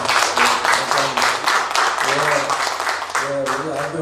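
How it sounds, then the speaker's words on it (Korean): Church congregation applauding together at a regular monthly worship gathering, a dense wash of clapping running the full length, with a voice speaking and other voices mixed in over it. "우리 한번 박수 한번 합시다."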